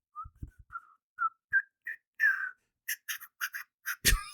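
A person whistles a short tune of separate notes, starting thin and rising into brighter, warbling phrases, ending with a sharp burst.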